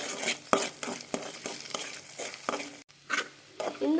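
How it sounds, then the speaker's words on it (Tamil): Eggs fried with onions and a little salt in a pan for egg noodles, crackling sizzle broken by repeated close scrapes and clinks of a spatula stirring, one brief pause midway. "இந்த முட்டை நல்லா ஃப்ரை பண்ணிக்கணும்."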